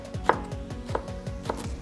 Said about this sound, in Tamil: இதே மாதிரி பச்சை கேப்சிகம் ஒரு பீஸ் எடுத்து நல்லா பொடியாக நறுக்கணும்.